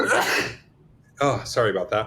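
A single loud sneeze from a man during a podcast interview, a sharp burst followed by a brief pause before he speaks an apology.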